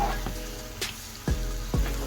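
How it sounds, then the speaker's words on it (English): Chicken filling for Korean bao buns sautés in a pan over a medium flame, giving a steady low sizzle broken by a few sharp stirring scrapes and knocks. "we're cooking that on medium flame. Now we've been sauteing it for about 5 minutes or so."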